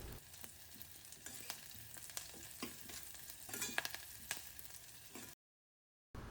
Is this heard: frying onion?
yes